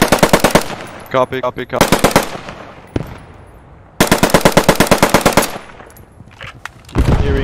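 Loud, close bursts of rapid machine-gun fire rattle through a battle in the WWII shooter Post Scriptum on the Velmolen map, broken by short pauses, with a brief spoken word in between.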